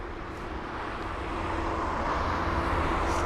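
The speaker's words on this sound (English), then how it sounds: "We have an A320neo also pulling into the approach pattern into London Heathrow, runway 27 right" An A320neo airliner approaching London Heathrow runway 27 right gives a steady distant jet roar that swells gradually louder over a few seconds.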